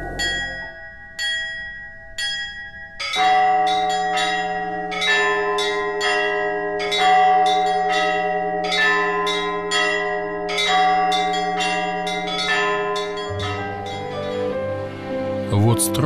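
Church bells ring from a belfry, several bells struck in a steady, overlapping peal with long ringing tones, loud and close, continuing throughout with no talk.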